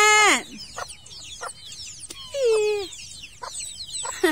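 Native chickens on a farm cluck in short bursts close by, with a rooster-like call at the start and scattered clucks and squawks throughout.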